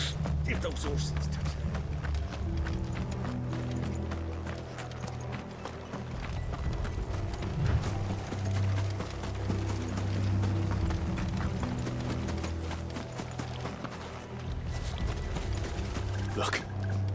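Horses in Final Fantasy XVI clip-clop steadily across the ground in a long rhythmic gallop, with game dialogue spoken over the hooves.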